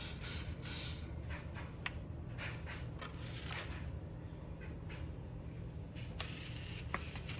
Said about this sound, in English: I'm gonna spray my fingers again.